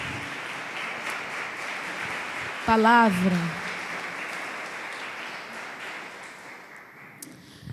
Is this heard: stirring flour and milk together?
no